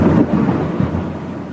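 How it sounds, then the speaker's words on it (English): Loud thunder from a thunderstorm rolls and rumbles close by, a heavy low boom that slowly fades with rain hiss beneath and no voices. "you just heard the loud thunderstorms in our area here"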